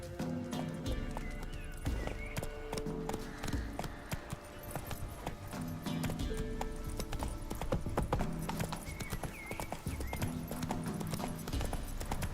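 Horse hooves clip-clop steadily in The Witcher 3 as the horse trots along, a continuous rhythmic patter with a whinny in the mix, set against game music and ambient sound.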